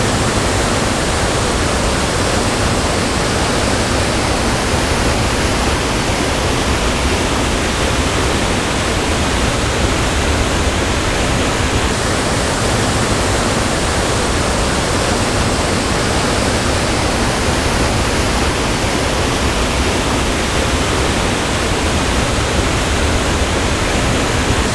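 Water in a small side creek with little pools flows steadily, a dense, even rushing wash that fills the whole clip without letting up, close and fairly loud, with no voices over it.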